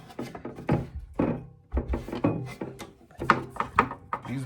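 A large bass instrument under construction knocks and thunks against wooden objects in a cramped workshop, several dull hollow knocks in irregular succession close by, with some faint talk.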